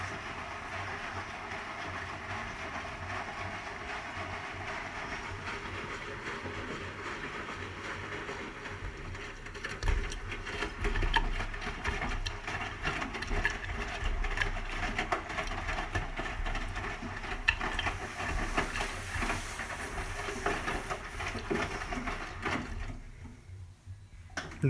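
A Hotpoint HE7L492 washing machine tumbles a cotton standard load of darks, giving a continuous rumbling churn with periodic thuds and clatters of the drum, then easing near the end.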